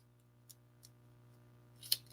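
Fabric scissors snip through puppet foam to bevel its edge, giving a few faint, sparse cuts spaced apart and one sharper, louder snip near the end, over a quiet low hum.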